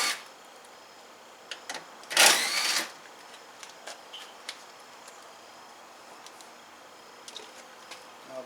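A 6.5 mm socket works the small headlight screws on a 2007 Ford F-250 Super Duty: faint scattered ticks and clicks, with one louder scraping rattle partway through, in a quiet setting.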